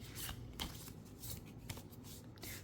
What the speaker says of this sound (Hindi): let me first shuffle your cards from the minor arcana